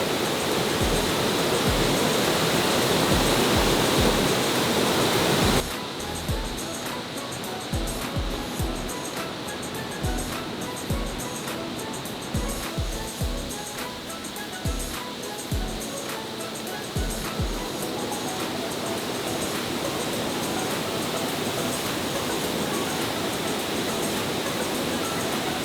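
Curug Luhur twin waterfall in Tenjolaya, Bogor, pouring as a steady broadband roar of falling water, loud and continuous, with faint intermittent knocks and movement nearby.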